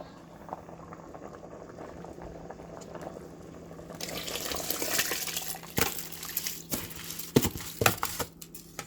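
Washed rice is poured into a cooking pot for rice and peas: a steady bubbling simmer gives way to louder splashing and sharp watery sloshes as the grains go in, close up.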